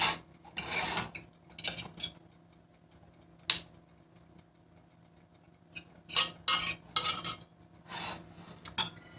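Butter being smeared around the bottom of a casserole dish, soft intermittent scraping and rubbing strokes with a few sharper ticks of utensil on the dish, quiet pauses between bursts.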